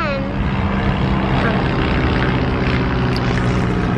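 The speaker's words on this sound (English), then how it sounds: "Airplane." A propeller airplane drones overhead at an outdoor softball game, a steady loud engine roar with a brief swooping whine at the start, and some talking in the background.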